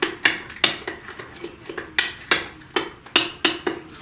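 Pancake batter is mixed by hand in a bowl, a rapid rhythmic series of sharp clinks and taps of a utensil against the bowl, close and fairly loud, with no one talking.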